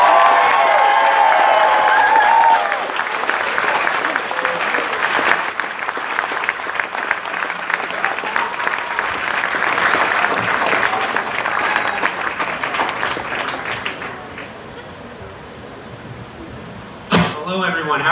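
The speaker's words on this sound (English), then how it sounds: "And you can now applaud him even more." Audience applause fills a hall at an evening disability-rights awards ceremony, steady and loud for about fourteen seconds with cheering mixed in, then thinning out as a voice begins speaking.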